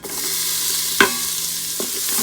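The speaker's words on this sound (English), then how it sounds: "then add a teaspoon of cumin seeds. I'm going to saute until it's nice and fragrant" Cumin seeds sautéing in butter in an Instant Pot give a steady, close sizzle with a sharp stirring scrape about midway and a softer one near the end.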